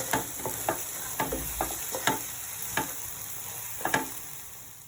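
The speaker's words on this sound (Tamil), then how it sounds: "நல்லா வதக்கிக்கலாம்." Egg rice ingredients being sautéed and stirred in a pan, with a soft steady sizzle and a string of sharp clicks from a spatula scraping the pan at irregular intervals, no voices.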